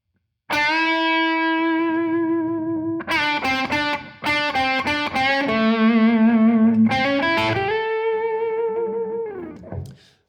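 Vintage blues lick on a Heritage H535 electric guitar through the bridge pickup, with overdriven, effects-laden tone: sustained bends and quick clusters of picked notes played alone, loud and close, ringing out before stopping.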